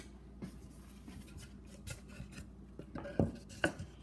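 Quarter-inch plywood tapped against the inside of a loose handle on an Amana refrigerator door, giving two or three sharp, close knocks near the end after quiet rustling.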